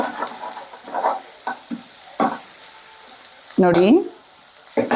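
Garam masala and spices frying in oil for a chicken gundakai gojju, with repeated scraping stirs against the pan under a soft sizzle, a brief voice and a short clanking scrape near the end.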